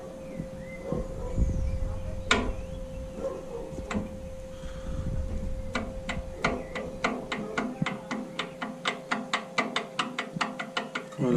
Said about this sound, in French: On peut entendre ce bruit là, c'est un bruit de cliquetis